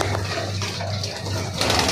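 Pigeons coo in a low, steady, rumbling drone at a Mirpur house where the birds are kept, continuous throughout with brief gaps, and scattered bird chatter and water-like noise behind.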